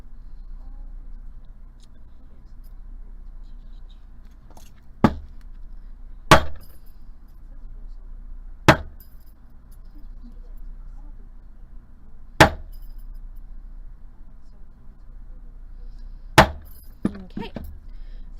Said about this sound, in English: just give it a good hard hit with your hammer, and that'll give you your design.